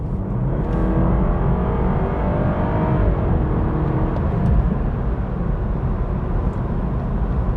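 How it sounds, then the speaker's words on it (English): BMW 220i F22 M Sport coupé accelerating in comfort mode, a loud continuous engine drone rising steadily in pitch with heavy road and wind rumble, heard from inside the car. "give it a bit of a push so you can hear what the engine sounds like or the vehicle sounds like in comfort"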